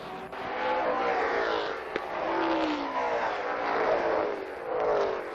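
Stock cars racing on the oval at Thunder Road Speedbowl in Vermont during the final laps, engines roaring steadily close by with rising and falling pitch as the pack circles.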